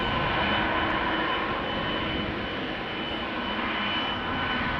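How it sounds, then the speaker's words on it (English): Jet engines of a KLM Boeing 787-10 airliner departing Amsterdam Schiphol, a loud, steady roar with a faint whine, unbroken across the whole stretch and with no voices. "KLM flight 605 coming this way. 787-10 to San Francisco"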